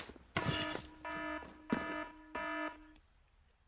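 Electronic alarm-style beeping from the video game The Culling: four buzzy repeated tones in an even on-off rhythm, fairly faint, with no talking.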